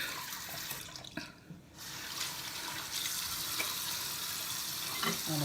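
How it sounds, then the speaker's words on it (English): Tap water runs steadily into a bathroom sink while hands are washed under it, a close, continuous splashing stream with a brief dip partway through. "wash my hands again."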